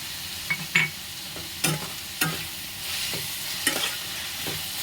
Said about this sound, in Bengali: এরপর আমি দিয়ে দিলাম ক্যাপসিকামের কুচিগুলো, টমেটো কুচি,